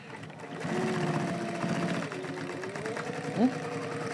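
A sewing machine stitching a nonwoven bag gives a short, quiet run of stitching and a soft whirr, with a person speaking over it.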